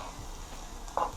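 Seasonings including chunks of ginger sauté for a Jamaican-style bean stew cooked in coconut milk, giving a soft, steady pan sizzle with a brief stir clink near the end.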